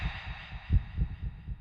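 A heartbeat sound effect thumps low and muffled, a steady series of soft double pulses under a faint high hum, quiet and close.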